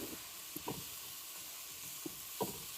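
Seasonings with smoked roux being stirred around in a pan for vegan chitlins, a faint steady sizzle with soft, sparse spoon scrapes and taps scattered through.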